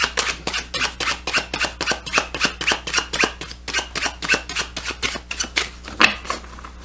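Tarot cards shuffled and dealt during a tabletop game, giving a quick run of crisp, evenly spaced riffling snaps near the listener, steady for several seconds with one slightly louder snap near the end and no talking.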